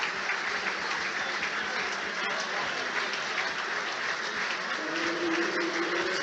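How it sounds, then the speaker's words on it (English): Arsenal supporters cheer and applaud in a Premier League stadium as a Belgian international comes on as a substitution against Brighton, a steady dense crowd roar sustained throughout. "A big cheer from the Gunners fans."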